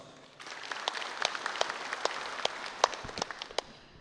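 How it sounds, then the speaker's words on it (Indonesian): A conference audience in Central Java breaks into applause, a dense patter of many hands rising quickly from quiet and holding fairly loud, with a few sharper individual claps standing out and no talk over it. "aplaus."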